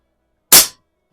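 A single sharp shot from an Air Venturi Alpha compact air pistol, a loud, close crack that dies away within a quarter second, followed by silence.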